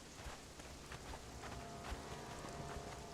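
Quiet, constant rainfall in the Conan Exiles game washes along as a low broadband patter, with occasional soft footsteps mixed in.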